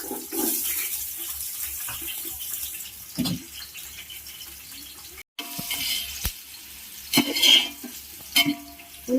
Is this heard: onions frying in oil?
yes